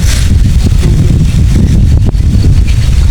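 A cool wind blows hard across the microphone, a loud, steady low rumble with rustling hiss and a few brief gust dips, and no speech.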